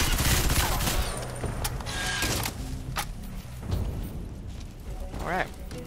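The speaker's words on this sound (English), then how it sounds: "It might just be that light machine gun tears them up." A light machine gun fires dense, loud bursts in Crysis 3 amid scattered impacts and mechanical clanks, with someone talking over the noise.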